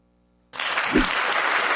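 Sudden burst of applause from an audience, many hands clapping densely and steadily after a moment of near silence, with no voices over it.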